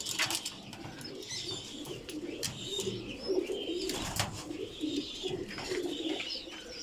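A collection of pigeons of many breeds coos in low, throaty calls, with chirps and occasional wing flutters mixed in, moderately close and fairly quiet, no voices over them.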